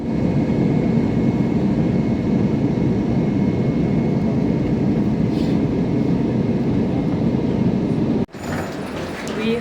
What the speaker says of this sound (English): we've now boarded the flight and the flight shall take off in some time